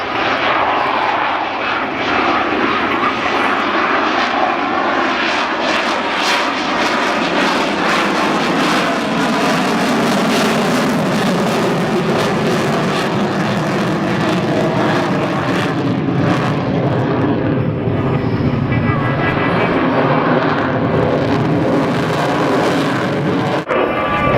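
A military aircraft makes a low pass at about 500 feet at the Duxford Autumn Airshow, its loud jet-like engine roar swelling and sweeping past steadily, with no talk.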